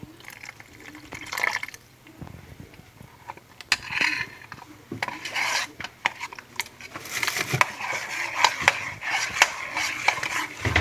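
Wet clinking and scraping of a utensil working through thick kue pukis batter with melted margarine in a bowl, irregular strokes with occasional liquid splashes, fairly close.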